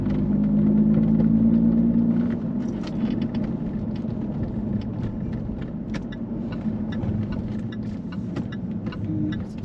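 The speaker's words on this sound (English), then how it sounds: "the sound of the exhaust really echoes" A manual Jaguar F-Type's exhaust rumbles deep and steady while the car drives through a city centre lined with buildings, swelling louder for the first two seconds, then settling into a throbbing drone echoing off nearby walls.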